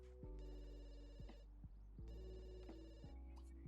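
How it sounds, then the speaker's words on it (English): A telephone rings in The Sims 2 with two long, bright electronic rings separated by a pause, set over a layered game music bed with plucked notes and no speech. "And the phone's ringing."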